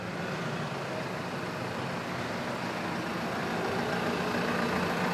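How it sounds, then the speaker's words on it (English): A farm tractor fitted with a front scoop and a rear scraper runs steadily, its engine giving a continuous, fairly faint rumble that grows slightly louder toward the end, with no voices over it. "Can you hear the noise of the tractor?"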